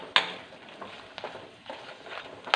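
Onions and chilies fry in a pan with a soft, steady sizzle. A few sharp clinks and scrapes of a spoon or ladle stir against the pan.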